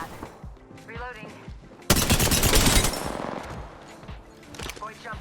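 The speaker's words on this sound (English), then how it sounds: "Getting shot at." Gunfire in the battle game Apex Legends: scattered shots and chatter early on, then a sudden loud burst of rapid automatic fire that rattles on for about a second before trailing into echoing shots and game noise.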